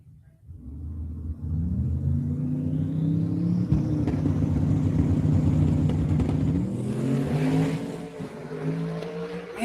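An open-top drag racing car with a roll cage accelerates hard down the strip, its engine climbing through rising harmonics in a loud, sustained roar before easing off near the end.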